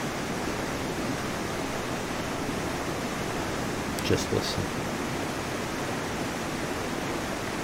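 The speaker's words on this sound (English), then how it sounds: "Cue rushing river sound effect." Steady rushing water of a river fills the scene, a constant broadband roar heard close and alone, with a couple of faint brief knocks partway through.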